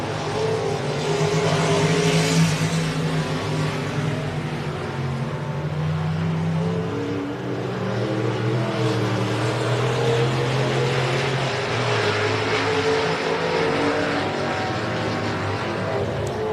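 Stock cars race around a speedway track at Southwest Speedway, engines droning and rising and falling in pitch as the pack circles. The loud, continuous roar fills the whole stretch and carries no talk.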